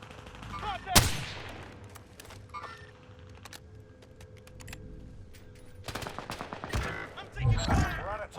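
Gunfire in the video game Call of Duty Warzone: a sharp close shot followed by scattered bursts and crackling rounds, with a player's voice calling out and other game sounds in between.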